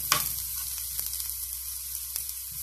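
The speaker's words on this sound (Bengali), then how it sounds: "এটা হালকা ব্রাউন হওয়া পর্যন্ত ভাজতে থাকবেন।" Garlic fries in oil until light brown, giving a low continuous sizzle with a few sharp crackles and a stirring scrape, close and quiet with no voices.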